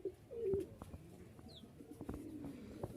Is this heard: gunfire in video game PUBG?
no